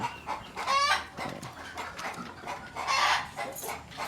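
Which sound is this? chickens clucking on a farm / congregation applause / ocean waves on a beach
chickens clucking on a farm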